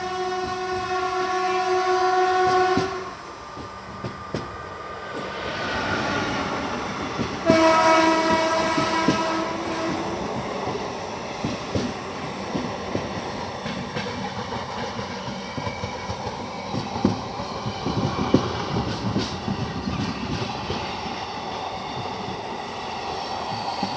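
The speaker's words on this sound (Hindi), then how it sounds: "उत्तराखंड संपर्क क्रांति एक्सप्रेस गजरौला को स्किप कर रही है" An Uttarakhand Sampark Kranti Express runs through Gajraula station without stopping, its long horn sounding at the start and again near eight seconds over a steady, loud rumble and rattling clatter of passing coaches.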